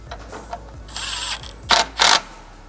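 Power driver turning a T30 Torx screw while a radiator is installed in a Porsche Cayenne, heard as two short close whirring bursts after a steadier faint whine, with light clicks and handling noise around them.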